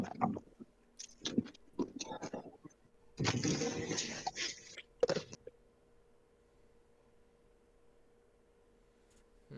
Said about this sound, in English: Sorry if you hear me crunching. Some Japanese snacks.